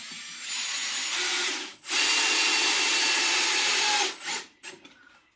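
A cordless drill, a Makita or a budget Parkside, drives screws, whirring in two sustained high-pitched bursts, pausing briefly between them, then tapering off with a few short stuttering pulses, close and loud.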